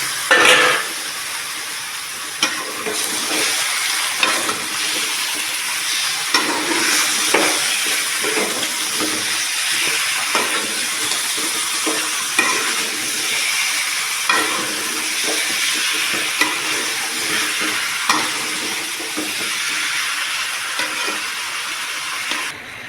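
Sustained sizzle of 1 kg of chicken frying in a hot oiled pan, with frequent scrapes and clanks as it is stirred, loud and close throughout.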